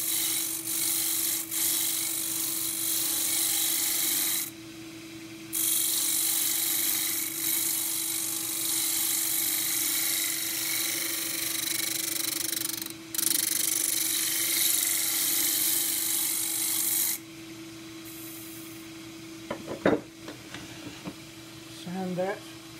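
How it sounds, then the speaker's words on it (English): A 3/8 spindle gouge cuts into a spinning cross-grain forest sheoak box on a wood lathe, its long raspy scraping passes riding over a steady motor hum, with brief pauses and a few light knocks near the end. "I'm going to come in with the 3/8 spindle gouge"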